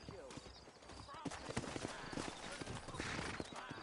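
Horse hooves clip-clop steadily on hard ground in a video game (Red Dead Redemption), amid busy background ambience, with voices talking faintly over the rhythmic footfalls.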